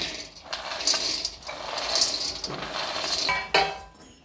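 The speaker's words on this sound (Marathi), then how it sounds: "हे आता शेंगदाणे भाजून घेते।" Raw peanuts being dry-roasted and stirred in a pan over a low flame, a continuous rattling, scraping clatter with a few sharper metallic knocks, close and fairly loud, with no talking.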